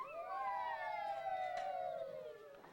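A police car siren wails in one long, steady falling-and-rising tone, fairly faint and distant, heard alone without talk.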